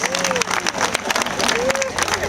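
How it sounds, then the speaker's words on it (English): A crowd applauds and cheers loudly with steady clapping at a zoo bird show, while a voice talks over the noise. "round of applause!"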